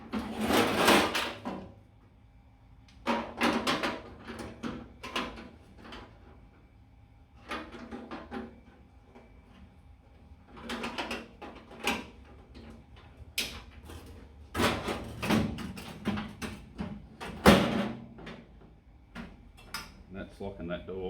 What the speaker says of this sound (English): And that's locking that door.